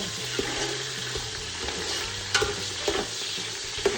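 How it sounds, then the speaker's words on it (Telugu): Drumstick curry tossed and fried in a pan sizzles steadily up close, broken by a few sharp clatters as the pan is tossed. "మంచిగా టాస్ చేసుకొని జస్ట్ ఒక 2-3 మినిట్స్ ఫ్రై అవ్వాలి అంతే"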